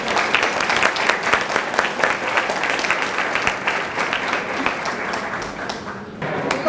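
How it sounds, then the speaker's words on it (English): An audience at a community event gives sustained applause, with dense, steady clapping from many hands filling the room for several seconds before it tapers off at the end. "Give them another round of applause."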